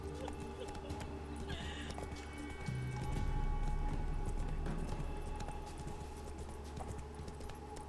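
A horse in The Witcher 3 gallops with a steady drum of hooves under ambient night sounds, and a brief whinny rises near the start.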